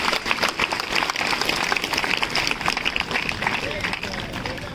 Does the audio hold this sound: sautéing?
no